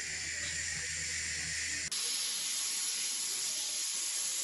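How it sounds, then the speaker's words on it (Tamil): A kitchen pressure cooker cooking liver gravy releases steam in a steady, loud hiss that abruptly shifts to a brighter, sharper whistle partway through and then continues alone. "விசில் வந்துடுச்சு."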